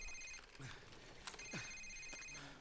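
A phone rings in Call of Duty 4: Modern Warfare with a repeating electronic tone that sounds in bursts over game ambience and short sharp effects.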